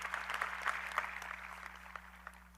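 Applause from a graduation ceremony audience, a dense steady patter of many hands clapping at moderate distance.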